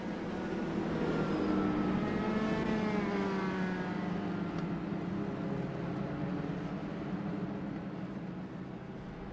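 Race cars in the iRacing sim on an oval track, a sustained engine drone with rising and falling pitch as the field passes, steady and fairly faint, no voices.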